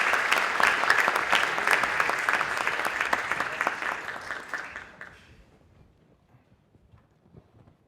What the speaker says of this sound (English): let's go ahead and give them a warm round of applause as they make their way to the stage